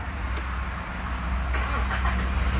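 A car engine fires up using an aftermarket keyless push-start button while the brake is pressed, a steady low rumble with a brief burst of start noise partway through, close by and with no talk.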